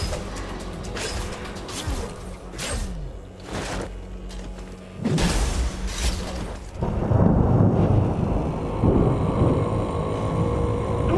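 Thunder rumbles through a storm in the game Bleak Faith Forsaken, with several sharp cracks and booms early on giving way to a heavy, continuous low roar of wind and rain.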